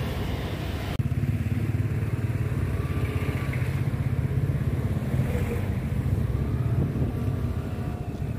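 Suzuki Burgman 2021 scooter engine while riding: a steady, close, loud drone mixed with wind rush that holds at an even level for the whole stretch, with no talk over it.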